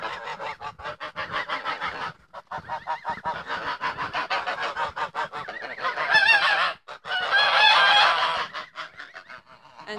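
A flock of geese on a Welsh smallholding honks close and loud in rapid, overlapping bursts with brief pauses, the calling swelling into a sustained chorus near the end.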